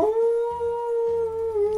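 A dog howls in one steady, sustained tone, loud and close, with no speech over it.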